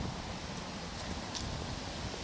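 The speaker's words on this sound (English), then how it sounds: "Oh, it's pretty windy." Wind blowing steadily outdoors across a Masonic memorial cemetery, a broad, even rush with soft buffeting and faint rustling throughout, fairly close and alone without speech.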